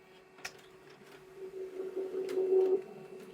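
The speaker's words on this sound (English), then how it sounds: "the print should come out very soon." A Canon MF275dw printer prints a page: a quiet, steady mechanical whir swells over a couple of seconds, with a few faint clicks, then cuts off near the end.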